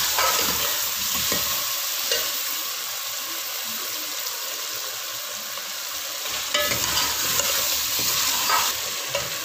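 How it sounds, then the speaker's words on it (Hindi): Potatoes cut lengthwise fry and sizzle in a pan as they are stirred, a dense, continuous hiss with scraping stir strokes and a couple of brief louder bursts, close and alone without talk. "थोड़े से आलू भून के फिर मैं इसमें बैंगन शामिल करके साथ ही भूनूंगी।"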